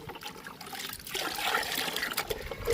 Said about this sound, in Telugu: ఇప్పుడు పసుపుని, కారాన్ని, ఇంగువని బాగా కలుపుకుందాము.